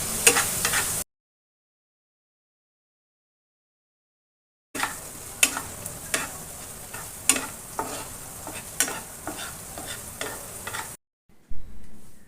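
Masala with turmeric is stir-fried on a low flame for a fish bhuna curry: a soft continuous sizzle with repeated close spatula scrapes in a loose rhythm, starting briefly, dropping to silence for several seconds, then resuming, with no talking.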